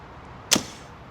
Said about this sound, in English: That's now hitting the ring gear, causing that zinging noise